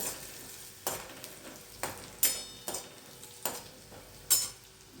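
Ridge gourd and crushed peanuts stirred in a pan, with a steady low sizzle under repeated sharp scraping and clinking strokes of a spoon, roughly one every half second to second, close and moderately loud.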